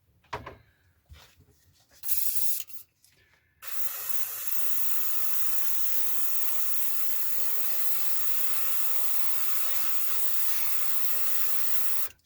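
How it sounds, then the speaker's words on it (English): An airbrush sprays aluminium paint onto a Kinetic 1/48 scale F-104J Starfighter model kit: a few faint clicks, then a steady, loud, continuous hiss that runs without a break to the end. "So just stopping short of the full colour shade with the airbrush, just not laying it down too heavily"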